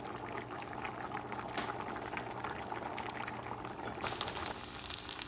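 Ostrich paella simmering in a pan, a faint, steady bubbling and soft crackle of liquid cooking down, with a couple of slightly louder hissing swells.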